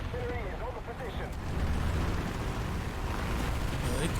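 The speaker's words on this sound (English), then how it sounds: "Artillery is on the position." Distant artillery fire in the tank game War Thunder, heard as a dense low rumbling of blasts under an M4A1 Sherman's engine and battlefield noise, with someone talking over it.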